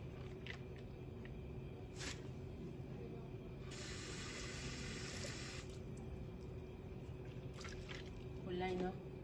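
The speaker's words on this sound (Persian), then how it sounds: "اینو من خیس کردم، بریزم توی آبکش." Soaked legumes and their water poured into a colander in a home kitchen while making Turkish soup; a rushing two-second pour stands out in the middle, with faint background voices and household noise.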